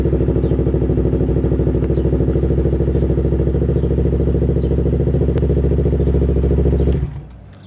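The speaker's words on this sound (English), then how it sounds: "So okay, so now to start up the bike." A Yamaha R3 motorcycle engine runs at a steady idle with a rapid, even thrum, loud and close, holding constant for about seven seconds before cutting off abruptly.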